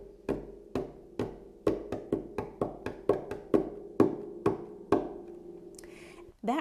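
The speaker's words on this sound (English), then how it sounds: "tap the right hand rhythm with their right hand on this part of the soundboard and tap the left hand" Hands tap a rhythm on a harp soundboard, a run of roughly fourteen sharp, close wooden knocks with a low resonant ring beneath, spaced unevenly like a dance-tune rhythm, then a brief scrape at the end.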